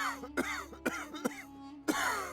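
An elderly man in a Hindi cartoon moral story coughs in four sharp, separate bursts, close and fairly quiet, with no speech around them.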